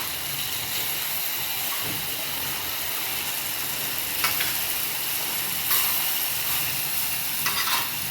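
Garlic fries in hot oil while tomato chutney is being made, giving a constant bright sizzle with a few soft stirring clinks and scrapes near the end.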